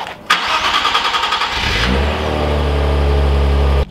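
A stock-exhaust Nissan Z cranks briefly on a cold start, then catches and roars to life with a loud rev before settling into a steady, rumbling high idle, heard up close.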